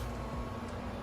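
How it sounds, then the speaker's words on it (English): Steady broadband whoosh of room fans and an air conditioner running together indoors, a constant hum and airflow hiss with no breaks, moderately loud and close. "I have the fans going and the air conditioner going all at the same time"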